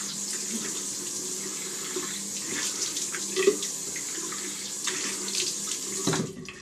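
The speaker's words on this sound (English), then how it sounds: "another cold water rinse" A bathroom tap runs steadily with cold water as a face is rinsed clean of alum after a straight razor shave, a continuous close splashing hiss with small irregular splashes and a brief clatter near the end.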